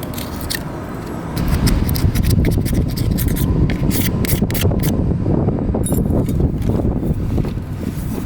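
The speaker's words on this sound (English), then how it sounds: "Get off all the old sealant." Old sealant being scraped off a jet boat, a loud, steady rasping scrape that runs continuously and grows stronger after the first second or so.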